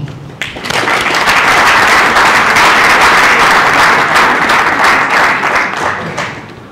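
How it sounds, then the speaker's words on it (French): A large crowd at a book dedication ceremony bursts into loud, sustained applause that swells quickly, holds steady for several seconds, then begins to taper off. "avec, si vous le permettez, une salve d'applaudissements"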